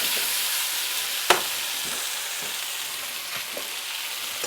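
Potatoes frying in a pan make a steady, dense sizzle, broken by a few soft clicks and one sharp knock as they are moved.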